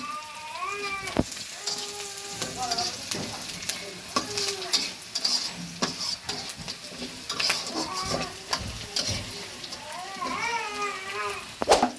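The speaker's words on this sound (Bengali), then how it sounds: "খুব সুন্দর করে একটু ভেজে নেব যে পর্যন্ত কালার না আসে।" Steady sizzling of ground and paste spices frying in a pan, with intermittent scraping as they are stirred; a voice speaks over it in places.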